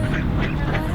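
Ducks quacking close by on the water beside a family's Nordhavn 55 trawler, with a steady low hum of engine or water noise underneath throughout.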